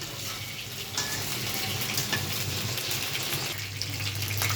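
Eggplant pieces sizzle steadily in a pan, with a constant close frying hiss and occasional soft stirring clatter.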